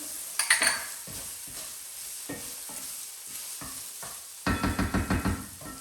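Tomato puree stirred into warming garlic in a cooking pot, with soft scraping and sizzling strokes, a few sharp knocks of the utensil against the pot, and a quick run of rhythmic taps near the end.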